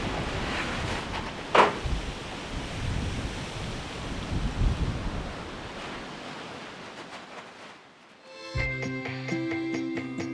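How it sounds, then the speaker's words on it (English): Wind and rain of Storm Darragh buffet a remote building site, gusty roaring rushes with bursts of microphone wind noise, easing toward the end before a musical tone takes over. "the wind and the rain are getting up"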